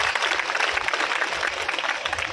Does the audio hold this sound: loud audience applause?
yes